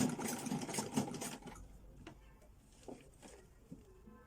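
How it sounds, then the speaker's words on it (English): A sewing machine stitches a bias strip onto a garment neckline in a loud, steady mechanical whir for about a second and a half, then stops, leaving faint handling clicks and soft rustling. "So just continue sewing."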